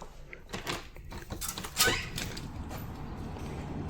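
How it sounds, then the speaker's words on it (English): A hotel room's balcony door in a downtown Vancouver suite opens with a brief creak and sliding rattle partway through, close and moderately quiet over faint room tone. "Now, the other door opens too"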